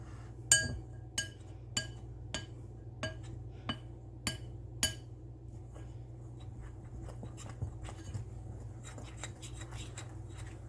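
A small spoon clinks against a bowl while an egg is separated for a cranberry curd tart, giving a series of sharp, bright taps that fade to lighter scrapes in a quiet kitchen.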